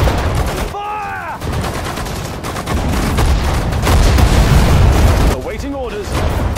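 Dense, continuous battlefield gunfire from the Sudden Strike 4 Falaise Pocket battle, loud rapid shots and bursts layered over rumbling background, with shouted voice commands breaking through twice.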